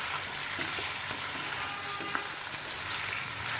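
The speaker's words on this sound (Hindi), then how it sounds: "मेरे लहसुन फ्राई हो रहा है।" About one and a half kilos of chicken fries with garlic in a karahi, sizzling in a constant dense hiss with a few faint clinks of stirring and no voices.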